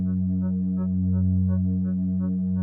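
Low synth bass from a synthwave track made in Ableton, a sustained deep tone with a steady pulsing pattern of brighter repeated notes moving above it, loud and alone.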